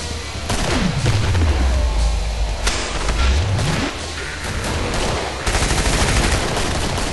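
Crossbow shots and rapid gunfire in the video game Killing Floor, a loud, dense volley of bangs with sharp impacts and swooping tonal sweeps running through the whole stretch, with no voices.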